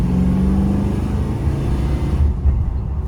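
A 1964 Chevrolet Impala, restarted after sitting for a year, idles with a steady, loud low rumble close by, the engine note dropping slightly near the end.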